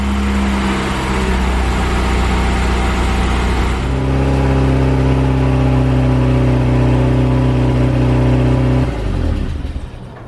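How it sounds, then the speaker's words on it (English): A 1990 Saab 900S engine idles loudly and steadily after sitting unstarted a while, with a rapid mechanical ticking and clatter of noisy lifters riding on the low hum, then the engine note drops near the end. "That's why the lifter's clattered so loudly."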